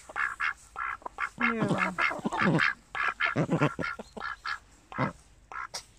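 Pet ducks quack in a farmyard in the countryside, a close, repeated run of raspy calls in uneven bursts, with one short word spoken among them.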